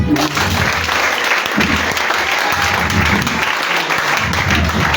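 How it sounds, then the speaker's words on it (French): A church congregation applauds loudly and continuously, a dense, close wash of clapping from many hands with a few voices mixed in, holding steady without a break. "Acclamez pour cette main."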